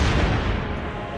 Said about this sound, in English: A single cannon fire from one of your allied ships, followed by many more.